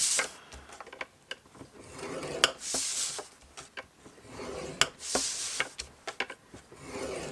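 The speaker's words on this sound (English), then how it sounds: "What I'm going to do is I'm going to score this one at 2 inches, which is 5 centimetres, on all 4 sides." Cardstock for a lidded gift box is scored with a bone folder along a scoring board, giving short scraping strokes and small taps, close and moderately quiet, repeated in uneven bursts.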